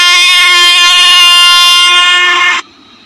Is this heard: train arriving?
yes